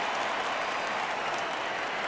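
Stadium crowd in MLB The Show 17 cheering at a Kansas City at Boston ballgame on a full count, a steady, dense roar of applause and voices that holds loud and unbroken throughout.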